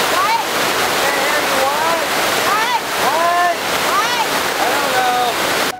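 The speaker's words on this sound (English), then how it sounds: "This is Horseshoe Falls in Rocky Mountain National Forest." Horseshoe Falls in Rocky Mountain National Forest roaring as a loud, constant broadband rush of falling water, with bird calls chirping intermittently over it and heavy wind buffeting the microphone.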